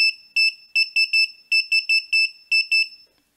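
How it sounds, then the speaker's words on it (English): A shrill active electronic buzzer beeps in short, loud pulses, some spaced and some in quick runs, then stops. "As soon as I give it some voltage, it will start to beep with a certain frequency."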